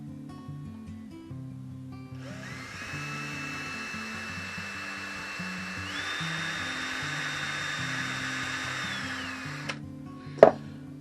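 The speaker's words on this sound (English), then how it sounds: "I'm going to drill a second hole in here" A power drill whirs steadily for several seconds while boring a second hole in a sea fishing dab rig, its pitch rising once partway through, then stops with a sharp clack at the end.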